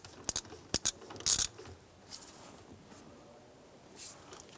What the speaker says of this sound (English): We're using a 15mm socket. You want to just snug that lock nut down into place.